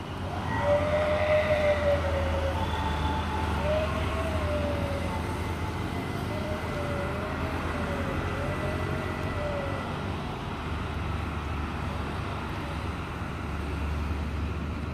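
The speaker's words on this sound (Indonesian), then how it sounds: "KLB Rail untuk uji coba ya, uji coba membawa rel untuk proyek KCIC" A KLB rail test train carrying 50 m rails for the KCIC high-speed rail project crosses the Titis bridge very slowly, giving a steady, loud mechanical rumble with a wavering horn-like tone riding on top and no talk.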